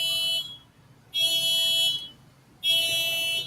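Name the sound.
car alarm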